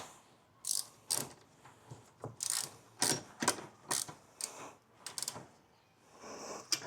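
A ratchet wrench tightens a bolt on a 2015–2024 Nissan Navara after a fuel filter replacement, sounding as close, irregular bursts of clicking pawl ratchets separated by short pauses.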